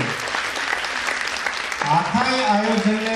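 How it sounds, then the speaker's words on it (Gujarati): Applause at a marriage awareness seminar, steady clapping from a hall audience, joined about halfway by a voice talking over it on a loudspeaker. "એકવાર જોરદાર તાળીઓથી સમગ્ર ડાયસને વધાવો"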